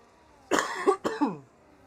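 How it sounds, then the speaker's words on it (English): A single person's cough, two quick harsh bursts close to the microphone, standing alone against near silence. "Again, sorry for the cough."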